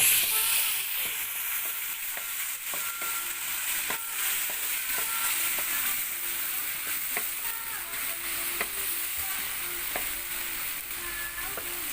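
Minced pork frying in a pan for a Northern Thai banana-stem curry with glass noodles, with a steady close sizzle and repeated scrapes and knocks of stirring throughout.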